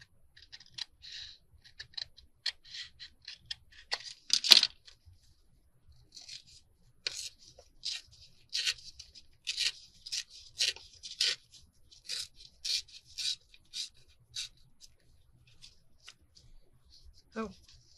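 Scissors snipping through fabric while sewing popcorn pockets and tucks, a run of short crisp cuts and rustles up close at a quiet level, with one louder snip early on.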